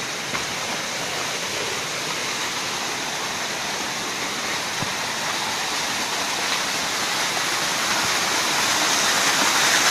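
Steady, full-bodied rush of falling water at Tengkorak Waterfall, constant and fairly loud throughout with no breaks, like a small waterfall heard up close.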